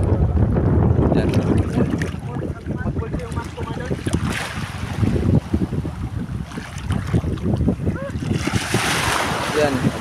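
Open-sea waves slosh and slap against a small fishing boat while wind buffets the microphone, with loud, churning water throughout and people talking over it.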